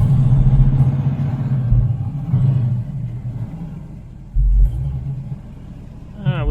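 A 1970 Chevrolet Camaro project car's engine, running a little rich while driving, gives a loud, steady low rumble with a brief surge midway, heard close up from inside the car.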